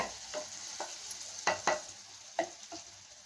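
Garlic chutney bubbling and frying in oil in a pan, a soft steady sizzle broken by a few sharp pops and stirring scrapes, quiet and close.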